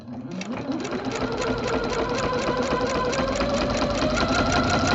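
A sewing machine stitches layered scrap fabric into quilted French roses, a loud, steady, rapid close-up hum that starts after a brief pause and runs without talk.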